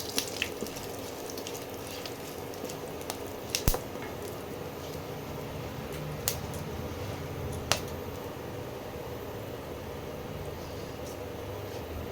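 Whole garam masala sizzles in hot oil for tempering, a soft, continuous frying hiss with scattered sharp pops and crackles up close.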